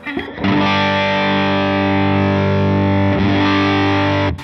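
A distorted electric guitar through a Line 6 Helix, tone control set low, rings out a sustained, bass-heavy chord, loud and close, then strikes it again and lets it sustain.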